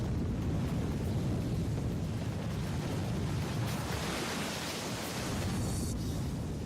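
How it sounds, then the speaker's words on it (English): Water pours out as a cofferdam crumbles at the Three Gorges Dam, a loud, steady broadband roar like surf that swells and churns throughout with no voices. "As the cofferdam crumbles, it unleashes the water stored behind it."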